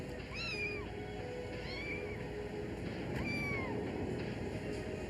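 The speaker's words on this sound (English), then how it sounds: "Did you bring a cat into the grocery store?" A cat meows several times inside a grocery store, short rising-falling cries standing out over a steady, fairly loud background hum.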